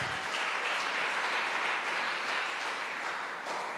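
A church congregation claps loudly and continuously, a thick wash of applause from many hands with no break.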